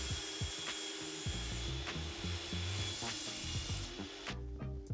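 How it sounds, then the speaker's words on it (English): Table saw with a crosscut sled cutting a long hickory and white oak piece in two, a steady close machine drone with rough wood-cutting rasp throughout. "I cut it as a 1 long piece and then split it into 2 with the crosscut sled."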